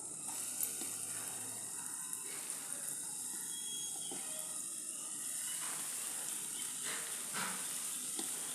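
Small balls of rava paniyaram batter fry in hot oil, a steady close sizzle and hiss that runs throughout with no talking.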